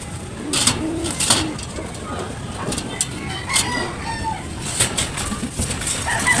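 Breeder racing pigeons coo repeatedly in low, throaty murmurs with other birds calling around them, and a person talks over the sounds.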